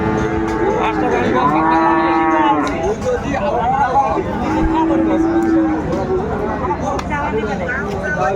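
Sahiwal cattle low repeatedly at a busy livestock market, long wavering moos close by over a constant babble of crowd chatter and voices.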